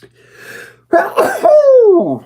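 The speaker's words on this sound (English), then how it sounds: "Oh, I got a sneeze coming up." A single sneeze bursts out after a brief wind-up of breath, loud and close, its tail sliding down into a drawn-out vocal trail.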